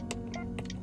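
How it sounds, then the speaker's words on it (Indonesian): Two sharp, close clicks about half a second apart from the turn signal of a 2026 Mitsubishi Pajero Sport Dakar 4x2, ticking over a low steady hum. "Efek suara tanda beloknya dia bisa ada bervariasi ya suaranya."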